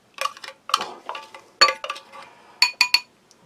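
A spoon clinks against a metal tin and small bowl while serving hot Spanish Army ration food of sausages and bacon, several short bright metallic taps in irregular bursts, close and alone.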